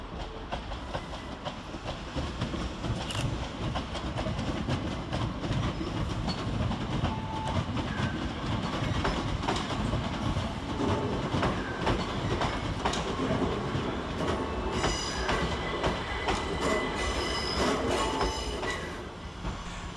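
A Southern Railway class 377 electric train, unit 377309, rolls into Redhill station to terminate after running from Tonbridge, a loud continuous rumble of wheels and clicking rail joints with brake squeals rising near the end.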